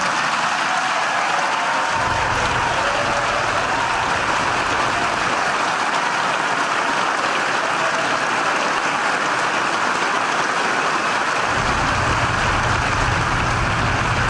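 Sustained standing ovation for Senator Franken in the Senate gallery on Capitol Hill, a steady dense wash of crowd applause held at constant loudness throughout with no pauses or speech.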